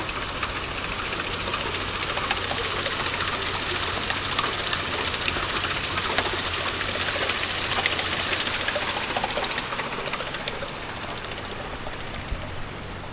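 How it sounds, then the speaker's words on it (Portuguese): A water wheel turns in a quiet park with a steady, continuous rush of splashing water and a low mechanical churn that runs without a break, then eases off slightly toward the end. "Uma roda d'água."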